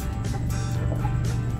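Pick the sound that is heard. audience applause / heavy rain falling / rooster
rooster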